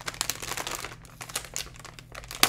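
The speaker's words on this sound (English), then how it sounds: "Get you out of this noisy plastic here." Plastic packaging crinkling and crackling as it is pulled off a large Asus ROG Strix GTX 1080 Ti graphics card, a close, busy run of rustles and crunches with a sharper snap at the end.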